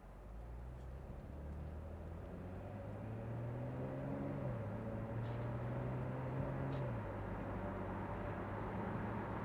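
Inside a 2018 Chevrolet Camaro RS V6, the engine hums steadily as the car accelerates toward about 40 mph, with a rising then shifting drone under road rumble, fairly quiet and without talking.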